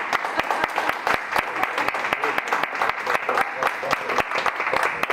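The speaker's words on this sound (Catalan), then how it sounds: "Si ens aplaudim." Teachers and students clap together in a steady, dense round of applause, close and lively, with no talking over it, at an end-of-term music recital.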